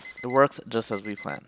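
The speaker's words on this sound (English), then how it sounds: "And you can hear that the alarm is going off." Alarm from a pomodoro clock web app, a repeating electronic beep tone that keeps playing under someone talking close up.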